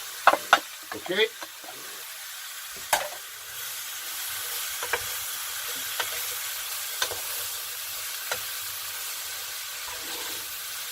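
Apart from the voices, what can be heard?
mushrooms frying in a pan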